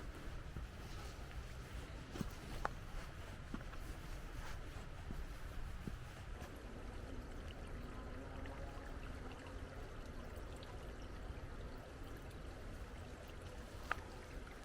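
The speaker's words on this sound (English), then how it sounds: "Sound of the mountain streams" Steady broadband rush of a mountain stream in Wales in January, continuous and fairly close, with a few faint clicks and no voices.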